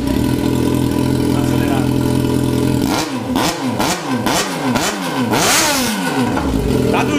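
A Yamaha XJ6 motorcycle engine with a newly welded exhaust pipe idles steadily, then revs up repeatedly in quick throttle blips, rising and falling several times, loud and close.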